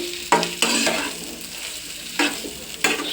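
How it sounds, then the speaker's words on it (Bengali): Spices sizzle in a hot pan while a spoon scrapes and stirs in a few brisk bursts, close and moderately loud, with no talking. "এবার আমি একটু ভালো করে নেড়ে চেড়ে নেব"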